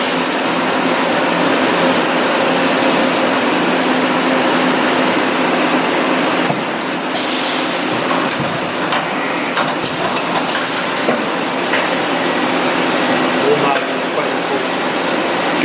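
A 2012 Hurco VM 10U five-axis machining center with a trunnion table runs steadily at close range, a loud broadband whir and hiss persisting throughout, with brief sharper bursts midway.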